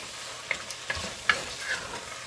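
Chicken frying in a pan as the base for a Tamil chicken salna, a soft, steady sizzle with a few faint clicks and spatters and one sharper pop partway through.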